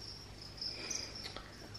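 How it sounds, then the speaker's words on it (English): Steady high-pitched chirping from a cricket infestation in a quiet home, a continuous trill with no voices. "what y'all do to stop y'all crickets from talking"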